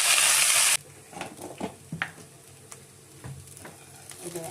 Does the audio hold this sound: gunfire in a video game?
no